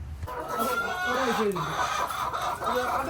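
Egg-laying hens clucking nearby: continuous, overlapping clucks and warbling calls at close range, fairly loud over background noise.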